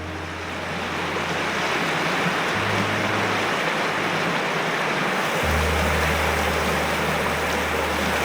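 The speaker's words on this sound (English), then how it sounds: "I love listening to the water flow by." Constant rushing water of the Cumberland River fills the scene, a steady broad wash of flowing current with a low engine-like hum underneath.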